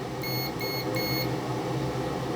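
A multimeter in continuity mode beeps while probing points on a PlayStation 5 circuit board during an HDMI port repair. Three short, bright electronic beeps come close together over a steady low hum.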